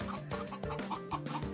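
Chickens cluck and squawk in repeated bursts at fairly close range, with no talking, on a hot July morning beside a sauna at Kholodnye Klyuchi near Zarafshan.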